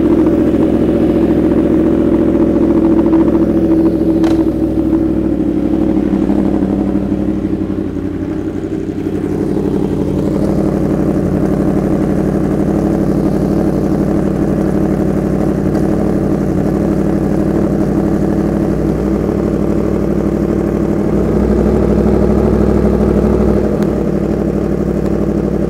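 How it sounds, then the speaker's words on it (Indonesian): A Yamaha R1M motorcycle engine runs steadily in first gear while its chain is being cleaned, giving a continuous, even mechanical drone with a faint clattering edge. It holds level throughout with no talk. "kita nyalain aja motornya langsung biar kita gampang membersihkan si rantainya"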